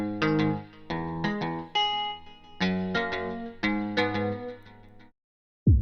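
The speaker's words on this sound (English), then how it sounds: "So I used Electric 80s preset, electric guitar settings here." Electric guitar layer from a Logic Pro Alchemy Electric 80s preset through a clean amp with delay and reverb, playing a clear rhythmic sequence of ringing chords that stops abruptly before a brief final strike.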